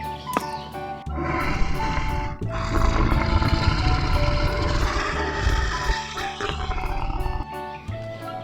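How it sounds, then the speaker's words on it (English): A lion roars loudly and continuously, a deep rumbling, sustained roar close to the listener with a brief pause near the start. "Wild animal lion."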